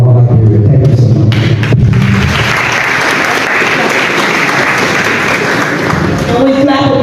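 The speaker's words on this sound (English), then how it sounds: "And we clap again, give it up for Dr. Klein and represent the First Lady's office" A live audience at a Liberian diaspora health sector event breaks into loud, sustained applause after a brief opening moment. The dense clapping fills the room for several seconds before thinning out near the end.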